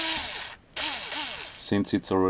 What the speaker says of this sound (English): Use an M3 drill